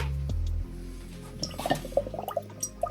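A toy dinosaur egg drops into a container of water with a splash, followed by a scatter of small bubbling drips and clinks close by.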